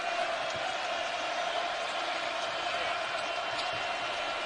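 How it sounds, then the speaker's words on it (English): A basketball crowd at a Kentucky college game on its feet and screaming, a dense, loud, steady roar of cheering voices that fills the whole stretch without letup. "now a crowd that is on its feet and screaming"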